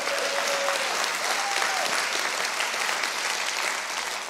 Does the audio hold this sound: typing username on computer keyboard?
no